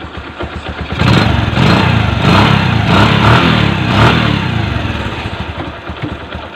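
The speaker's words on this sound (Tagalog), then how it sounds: "pakinggan nyo yung andar, talagang pino. Nakaminor yan mga pre." An overhauled Bajaj CT 100 motorcycle engine idles close and loud, swelling after the first second into a smooth, even putter that holds steady and eases slightly toward the end.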